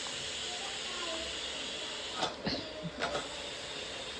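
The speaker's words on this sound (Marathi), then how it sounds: "त्याला आपण कुकरची शिटी काढून घेऊ" Steam released from a pressure cooker of cooked mutton as its whistle is lifted, with soft background hiss building into several short, sharp hissing bursts, alongside some talking.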